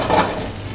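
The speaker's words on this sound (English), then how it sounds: "I'm just going to add some butter here." Butter sizzles in a pan with browned langoustine heads, a brief, close hiss with a soft stirring sound, no voices.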